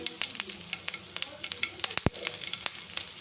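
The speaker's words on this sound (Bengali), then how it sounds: "সর্ষেটাকে আমি হালকা ভেজে নিয়েছি। এবার এর মধ্যে দিয়ে দেবো কাঁচা লঙ্কা কুচি" Mustard seeds and chopped green chilli fry in oil, a soft sizzle broken by rapid sharp pops and crackles, with one louder knock near the middle.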